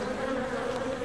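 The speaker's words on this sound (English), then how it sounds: "What we have here are just some bees coming and going from the top entrance of the hive." Honey bees buzz around the top entrance of a hive in Newfoundland in July, a dense, continuous hum that stays close and even throughout.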